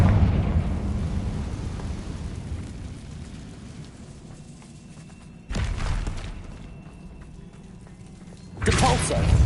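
A Confringo spell explosion in Hogwarts Legacy: a loud, rumbling blast that swells and sustains, followed by further heavy bursts, with a voice calling out over it.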